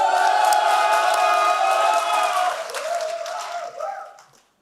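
Crowd applause and cheering from residents of several South Korean regions at a rural basic income alliance launch ceremony, a sustained dense roar of clapping that thins and fades toward the end.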